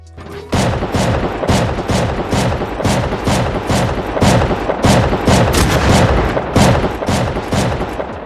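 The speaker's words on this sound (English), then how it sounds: "so I threw down a shotgun trap" A shotgun trap in Rust Console Edition fires over and over in a steady, booming rhythm, loud and close, each blast landing at roughly half-second intervals.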